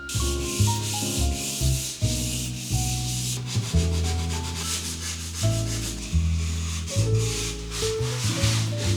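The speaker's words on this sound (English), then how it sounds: "It's officially time to sand." Steady back-and-forth rasping of sanding strokes on dried wood filler, repeating rhythmically under background music with clear melodic notes.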